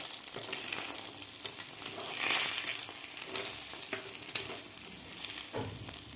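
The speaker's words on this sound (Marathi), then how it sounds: "एक मिनिटभर आपल्याला हे फ्राय करून घ्यायचं आहे।" An egg frying in a pan with red chili powder and green chili, a steady loud sizzle and crackle running throughout with occasional stirring scrapes.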